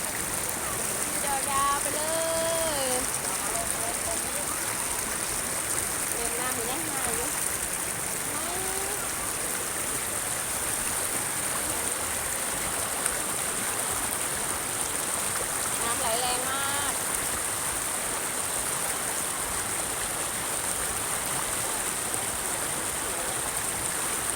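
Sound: waterfall stream flowing

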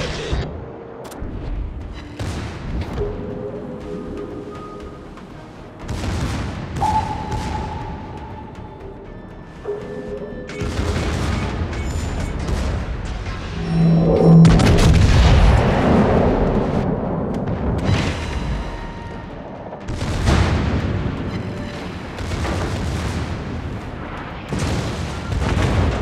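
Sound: naval gunfire and explosions in World of Warships video game

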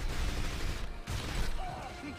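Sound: gunfire in James Bond From Russia with Love video game

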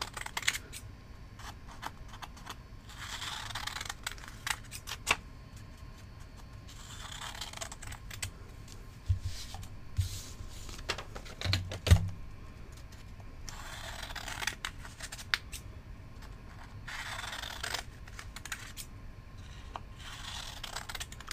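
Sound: scissors cutting paper flashcards

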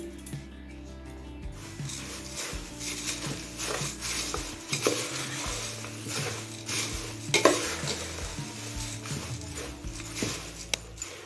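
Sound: mixing puffed rice and spicy chanachur for bhel puri

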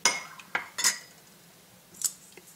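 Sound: spoon mixing milk and vanilla essence in bowl

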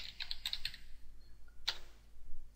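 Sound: typing a command on a computer keyboard

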